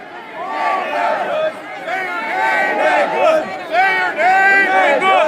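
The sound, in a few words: protest crowd of demonstrators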